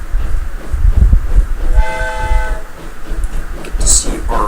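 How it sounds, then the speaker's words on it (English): A train in the video game Transport Fever rumbles along, then sounds a clear, sustained horn blast midway, with a speaking voice occasionally over the rolling noise. "Get to see our first little train there."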